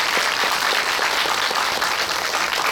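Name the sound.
audience applause for the two actors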